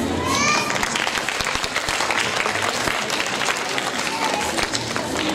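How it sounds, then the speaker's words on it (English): Loud sustained applause from a school annual day audience honoring parents, many hands clapping in a thick continuous patter, with children's voices and chatter mixed in throughout. "A big applaud to Canopus parents."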